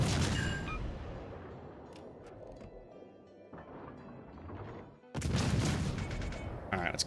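Naval gun salvos pound around the German Tier VI cruiser Nürnberg in World of Warships, distant thuds under quieter stretches, then a sudden loud crashing barrage near the end.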